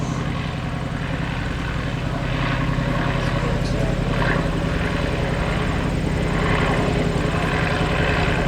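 A WWI Fokker D VII biplane flies low and slow over Old Rhinebeck Aerodrome, its propeller engine giving a continuous, loud droning buzz throughout while someone narrates over it.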